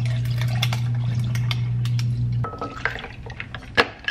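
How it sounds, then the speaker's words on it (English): Warm water is poured into matcha in a steady, continuous stream for a couple of seconds, then trickles and a few light clinks and drips follow close by, with no talking. "I'm gonna add some water, just warm water to it to help"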